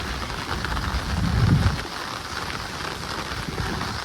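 Heavy monsoon rain pours over a village, a dense steady patter on surfaces that swells briefly before settling back to a constant downpour.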